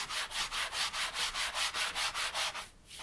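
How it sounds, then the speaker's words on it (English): Light back-and-forth strokes of a sanding block over a surface coated in homemade chalk gesso, about a dozen even rasping passes at a steady rhythm, close and clear, with no talk. "What I normally do then is get a sanding block like that, and I just give it a light sand"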